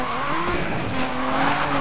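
Tires squealing in a continuous skid as a car drifts in the racing game Need for Speed Most Wanted (2012), steady and loud over engine drone with no gaps.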